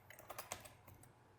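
Quiet typing on a computer keyboard, a short burst of faint, quick key clicks with no voices.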